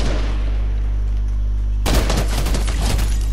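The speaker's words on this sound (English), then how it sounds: "Where's that shooting?" Gunfire in the Fortnite video game, a sudden burst of rapid shots breaking in after a steady low hum, loud and close, with no talk.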